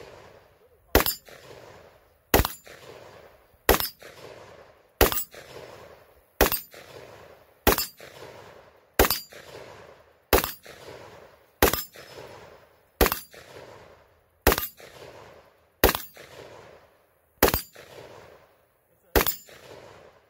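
Semi-automatic gun fired at a shooting range: about fifteen sharp, loud shots, evenly spaced roughly every 1.3 seconds, each with a brief echoing tail and no talking.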